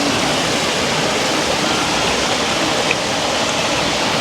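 River water flowing steadily where washing is done, a continuous broadband rush with no clear breaks, close and loud throughout.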